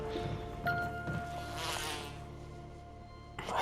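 Bees buzz steadily around a hive with a droning hum that swells and fades, rendered in a synthetic, game-like tone from Resident Evil, without any voices.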